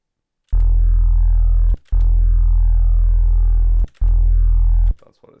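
Synthesized neuro bass with added harmonics plays three long, buzzy, distorted notes separated by short silent gaps, loud and dense with overtones.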